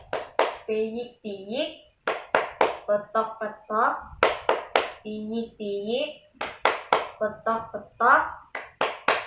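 Children and a teacher clap hands in a rhythmic clapping song, sharp claps falling in quick repeated bursts between sung and chanted lines, close and clear.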